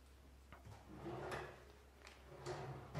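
A lab drawer sliding open and shut in a room used for Western blot film work, producing faint, quiet scraping and a couple of soft knocks, with no one talking.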